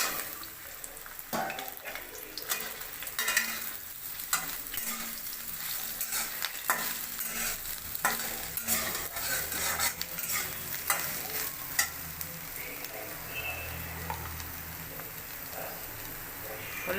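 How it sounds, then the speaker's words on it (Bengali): Soybean chunks frying in mustard oil in a wok, a steady soft sizzle with scraping stir strokes and occasional clinks, close and fairly quiet, no talking. "তারপরে সয়াবিনটা ভালো করে লাল লাল করে ভেজে নেব"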